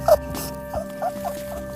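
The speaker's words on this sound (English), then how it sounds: "rat" Several short, squeaky rat chirps come in quick succession over a quiet background tone.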